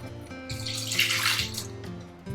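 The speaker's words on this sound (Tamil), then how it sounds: "இன்னும் கொஞ்சம் கூட லைட்டாக தண்ணி ஊற்றுவேன்" Water is poured into a pan while cooking a nethili anchovy thithippu, a short close splashing stream that swells and fades over a couple of seconds above a low steady hum.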